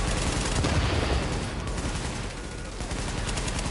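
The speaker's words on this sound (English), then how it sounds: "this gun does work" Rapid gunfire from a weapon in the shooter game The Division, a steady loud burst of shots in the first half that eases into quieter background firing, with no talking.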